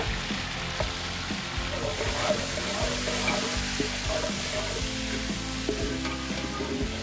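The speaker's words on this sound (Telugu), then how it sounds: "ఇప్పుడు ఇందులోకి కరివేపాకు ఎండుమిర్చి తాలింపు గింజలు వేసుకోవాలి ఇవి కొంచెం ఫ్రై అయ్యాక" Curry leaves, dried red chillies and tempering seeds fry in hot oil with a steady close sizzle and crackle, stirred now and then, with no talking.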